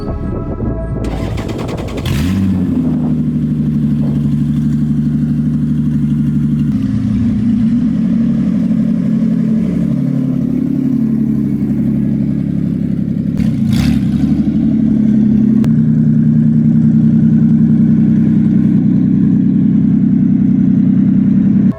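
Toyota MR2 with a 3SGE engine cranks briefly and catches, then settles into a loud, steady running idle with a few blips and clatter, close by in a driveway, no talk.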